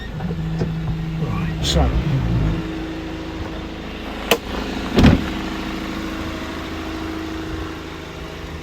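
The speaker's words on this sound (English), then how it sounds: "So let's engage the PTO, put it in gear." 2013 Land Rover Defender 130 2.2 TDCi MEWP engine running with the PTO engaged, a steady low idling hum with a few clunks and a short mechanical whine, brief talk near the start.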